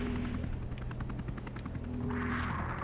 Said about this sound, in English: Where is that fucking helicopter?